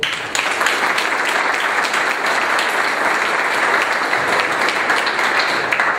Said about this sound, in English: By the way, Kevin, we applauded for you in that one as well.